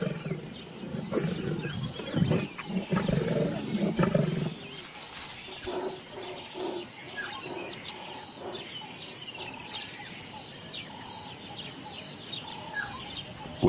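Lions at a kill in the African wild give deep, rumbling growls and roars that dominate the first few seconds, then fade into a quieter wild soundscape of faint bird calls and insects.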